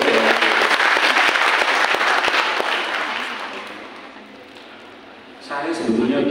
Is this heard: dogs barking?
no